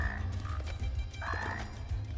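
Amphibian-like creatures in Immortal Redneck let out a short croak and then a longer, warbling one, close and clear above a rumbling game backdrop with some soft thuds.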